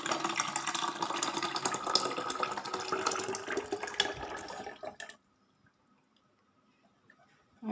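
A fermented buttermilk mixture, made up as a garden pesticide for hibiscus, jasmine and brinjal plants, pours steadily into a container, splashing for about five seconds before stopping abruptly, with near silence after.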